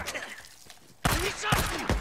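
Gunfire in the zombie survival game Days Gone erupts as a sudden loud burst of shots halfway through, following quieter game ambience, with a player shouting excitedly over the shooting.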